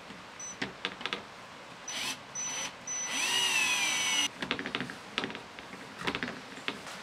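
A cordless power drill drives screws for the chute bolts on a Keter plastic storage shed, several short whirs followed by one longer sustained run, surrounded by light clicks and handling knocks.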